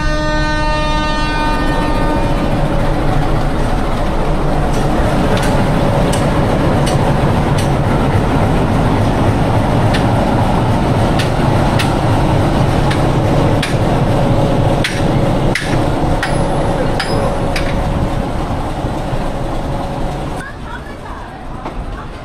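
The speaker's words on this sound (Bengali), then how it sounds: "নামতে নামতেই ট্রেন ছেড়ে দিল।" A local train hauled by a 2400 series locomotive pulls out of Kaunia Junction, a loud, close rumble of wheels and engine with clanking and a horn early on. People's voices can be heard over the noise.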